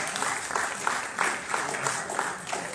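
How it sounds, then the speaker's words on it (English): An audience at a Bronx hospital safety summit applauds a panel of survivors, a steady wash of clapping from many hands in a room, moderately loud with rhythmic swells. "Can we please give them a round of applause for being here?"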